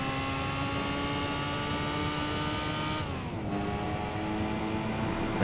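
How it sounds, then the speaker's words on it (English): Racing car engine held at steady high revs under full throttle in the PlayStation 2 video game Gran Turismo 4 Prologue, a continuous loud harmonic drone with a brief pitch dip midway before climbing again. "Here is just full throttle send and maybe don't hit the wall like a moron."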